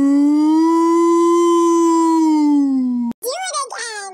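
A voice imitates a tractor engine revving faster, holding a long, steady, siren-like drone for about three seconds before breaking off into a short, wavering vocal burst.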